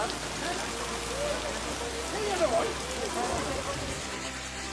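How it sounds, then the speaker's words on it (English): Hail and heavy rain fall steadily during a rare winter hailstorm in Hermosillo, Sonora, a constant dense patter on surfaces at close range with no clear breaks and a faint voice-like trace in the middle. "A rare hailstorm struck the city of Hermosillo, in Sonora State"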